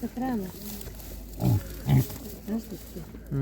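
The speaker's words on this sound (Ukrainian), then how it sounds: "Ну, свинки гарно, видно, що м'ясна така порода" Low, short grunts of meat-breed pigs at an animal market come in a few separate bursts, close by, mixed with bits of people talking.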